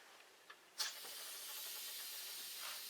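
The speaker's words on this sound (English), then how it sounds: "There's a little bit of steam coming out of that." Steam hisses steadily from a pressure canner full of home-canned chili con carne, starting with a sharp burst and then holding as a continuous, fairly quiet hiss with a couple of small clicks before it.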